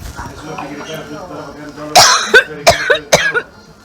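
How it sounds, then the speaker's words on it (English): A quick series of sharp, close coughs follows a stretch of quiet talking, each burst short and forceful. "Oh, I'm going to cough."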